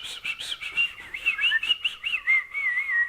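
A person whistles a wavering, chirpy tune in imitation of a tiger trying to whistle in a storybook tale, close and alone, with short rising and falling phrases like birdsong.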